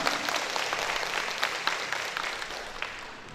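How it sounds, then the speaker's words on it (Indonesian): An audience claps at an electric cooking equipment distribution event in Talun Kenas, Deli Serdang, a steady, moderately loud wash of applause that tapers slightly toward the end. "Beri tepuk tangan yang meriah."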